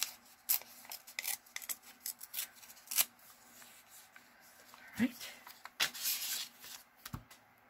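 Scissors snip through paper while making pockets and ephemera for a junk journal, a few short crisp cuts mixed with rustling and handling noises, close by.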